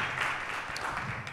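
Short burst of audience clapping at an MMA press conference, a dense, steady patter of many hands at moderate level, heard close and without a clear voice over it.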